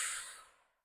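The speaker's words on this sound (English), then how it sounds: "We're going to breathe out through the mouth as we bring our arms down." A single mouth exhale during a gentle Pilates flow, a soft breathy rush that starts strong and fades away over under a second, heard alone.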